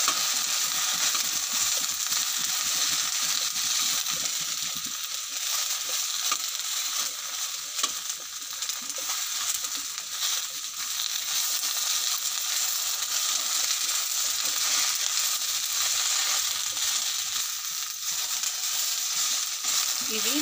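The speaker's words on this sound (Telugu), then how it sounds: "ఆయిల్ ను వేసి ఇలా కలుపుకోవాలి" Okra frying in oil and being stirred, a steady broadband sizzle running continuously with scraping stir sounds throughout, close and fairly loud, with no talk over it.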